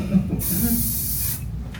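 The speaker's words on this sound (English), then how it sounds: "Spray a little bit on the surface" A spray bottle of hair care product lets out one steady, close hiss lasting about a second, over low room noise.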